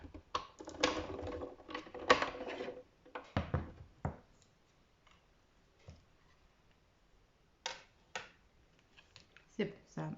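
An electronic cutting machine slices out a gift tag for a Christmas table guest favour, giving irregular clicking, ticking mechanical bursts that come and go, with brief quiet gaps between runs of motion.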